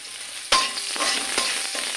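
Chopped garlic dropped into hot oil with cumin in a pan bursts into a sudden loud sizzle, then settles into steady close frying crackle with light stirring.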